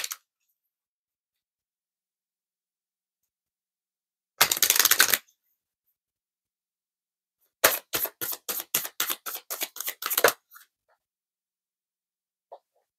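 Oracle cards being shuffled for a reading: one short riffle, a pause, then a rapid run of about ten crisp card slaps, close and clear in an otherwise silent room.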